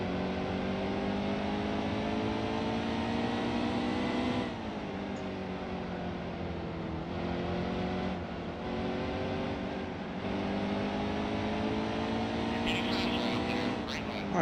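Race car engines droning steadily in the NASCAR Heat 2 game during an Xfinity race at Bristol, a continuous loud pack roar with pitch rising and falling as cars shift, and a speaking voice over it.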